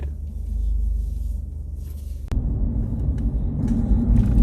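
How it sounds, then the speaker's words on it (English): A car driving around town gives a steady low engine rumble and road noise from inside, with a sharp thump midway and then a rougher, louder rolling sound, no talking. "I'm going to be doing a little drive around town here."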